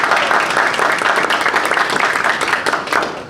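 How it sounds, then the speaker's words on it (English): A big round of applause from the audience at a public policy panel on open government, loud dense clapping from many hands close by, steady throughout and tapering slightly at the end, with a little voice underneath. "How about a big round of applause for our"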